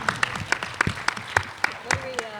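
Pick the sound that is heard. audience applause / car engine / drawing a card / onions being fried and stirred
audience applause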